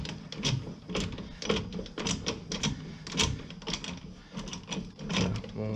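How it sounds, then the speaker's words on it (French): A puller tool being tightened to free the rear brake drum of a Citroën C4 Cactus 1.6 BlueHDi, heard as a steady run of close, rhythmic metallic clicks and knocks. "je viens serrer mon outil qui va me permettre de décoller le tambour"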